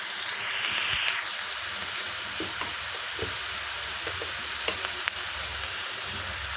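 Sliced raw plantain sautéing in a pan with turmeric powder, a steady bright sizzle throughout with occasional soft stirring clicks and scrapes of a utensil, close and fairly loud.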